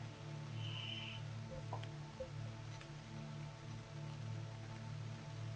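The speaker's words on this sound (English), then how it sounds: "Oh, hey, look, it's raining." Steady rain in the video game Kingdoms patters across a surface with a soft hiss, joined by a low continuous hum and a few faint drips, with no one speaking.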